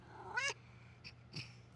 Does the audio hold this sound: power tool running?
no